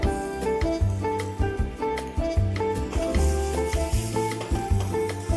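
Tomatoes hit a hot pan for lasagna sauce and sizzle steadily, with close, rhythmic stirring scrapes and knocks layered over the frying hiss.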